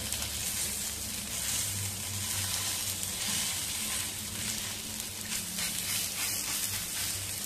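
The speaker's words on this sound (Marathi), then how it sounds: "आता आपण थालीपीठ घालूया भाजण्यासाठी।" Poha thalipeeth roasting on a hot pan gives a steady, soft sizzle that crackles evenly throughout, close by and fairly quiet, with no talking.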